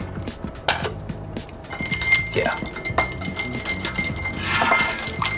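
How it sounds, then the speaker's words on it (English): Ice clinking against glass as a martini is stirred, a series of bright close clinks and rattles at an uneven rhythm, with a brief spoken word in between. "Give that a stir, and then straw it"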